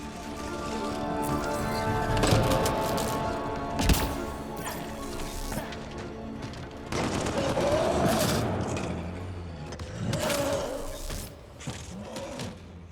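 Gunfire in Mass Effect Andromeda comes in bursts of sharp, repeated shots with a mechanical whir and clatter, layered over steady game ambience and moderately loud throughout.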